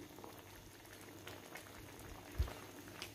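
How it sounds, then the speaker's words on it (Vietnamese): Malaysian fish curry with fish, shrimp and vegetables boiling in a pot, a soft continuous bubbling with occasional small pops, close and quiet, with no voices. "nấu cho nó sôi lên như vậy"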